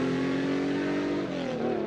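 Porsche engine revving and pulling away in a radio advert, a brief steady tone that rises in pitch near the end, heard alone with no voices.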